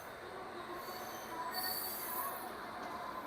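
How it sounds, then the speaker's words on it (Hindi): A Tejas Rajdhani Express running from Bhubaneswar to Delhi, hauled by a WAP-7 locomotive, rolls past with a high metallic wheel squeal over a steady rail rumble, heard from a moderate distance. "भुवनेश्वर से दिल्ली को जाने वाली तेजस राजधानी एक्सप्रेस। वेब 7 लोकोमोटिव के साथ हावड़ा सेट का तेजस राजधानी।"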